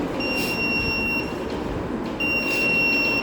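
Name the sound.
buzzer controlled by ESP32 beeping every second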